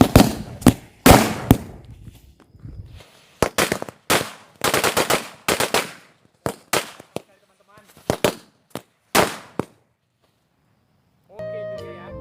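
Jumbo firecrackers set off for Ramadan burst in a rapid string of sharp, loud explosions, some overlapping, with short pauses between volleys before falling quiet; a brief electronic tone sounds at the end.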